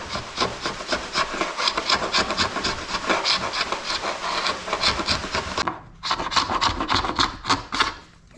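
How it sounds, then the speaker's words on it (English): Teak deck seams on a wooden boat are sanded to clear out old epoxy, producing quick, rhythmic rasping strokes close by. A brief pause comes near the end before the scraping resumes. "So I'm sanding out all the seams to get the last of the epoxy out"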